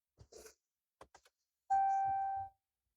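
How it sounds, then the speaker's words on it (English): A Ram truck's seatbelt alarm sounds one clear, steady electronic chime tone lasting nearly a second, preceded by a few faint clicks and taps inside a quiet cab. "It's going to chime to let you know that it worked."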